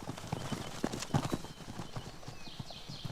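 Konik pony hooves clip-clop steadily on a hard surface in Poland in a quick, uneven rhythm, fairly close, with faint background noise and no talking.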